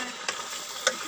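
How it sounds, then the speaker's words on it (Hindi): Chicken being fried in a pan for a Hindi home-style dish, a soft continuous sizzle with a couple of brief spatula scrapes or taps, close and fairly quiet. "ये तकरीबन गल चुका है। अच्छी तरह भूनना है इसको"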